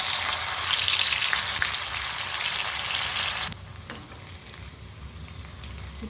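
Sweet potato fries hiss loudly in hot oil in a pan with a bright, busy crackle. Partway through, the sizzle drops to a quieter, softer bubbling, and no one speaks.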